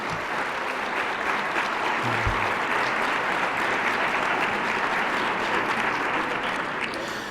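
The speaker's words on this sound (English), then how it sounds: "could we get a nice round of applause for tonight's People's Choice Award winners?" A high school awards night crowd applauds the People's Choice Award winners with a steady, dense wash of clapping that carries on evenly throughout.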